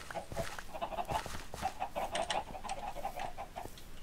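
Quiet, continuous clucking from several chickens in Minecraft, short overlapping calls in a loose rhythm, with no voices.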